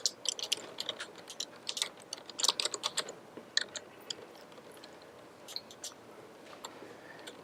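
Computer keyboard keys tapped in short irregular bursts while a password is entered, close and moderately quiet over faint room tone, with no talking.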